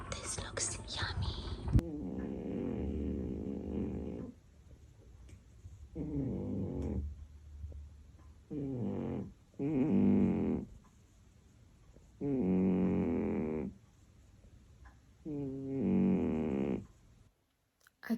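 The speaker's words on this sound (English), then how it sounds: "she's snoring" A pet dog sleeps indoors and snores in slow, rhythmic, raspy breaths that recur every few seconds. The snoring is close and soft, with quiet gaps between the breaths and no voices.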